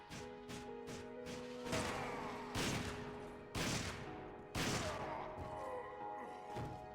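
Shotgun blasts in Resident Evil 5, with the Jailbreaker weapon fired in repeated heavy booms spaced about a second apart over a steady game soundtrack.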